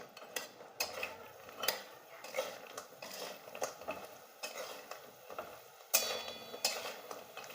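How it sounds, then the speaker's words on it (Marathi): Chillies stirred in sugar syrup in a pan, with a quiet, close series of scraping and clinking knocks of a utensil against metal in an irregular rhythm, plus a sharper clank near the end. "आता याच्यात मी मिरच्या टाकून घेणार आहे चांगलं अशी मिक्स करून घेणार"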